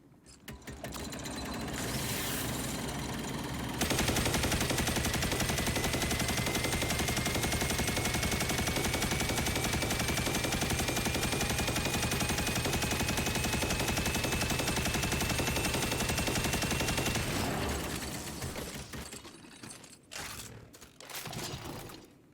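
The Heir Apparent exotic machine gun from Destiny 2 fires in one long, loud sustained burst for about fourteen seconds, its motor whir climbing steadily in pitch, ending with a few mechanical clicks and clunks.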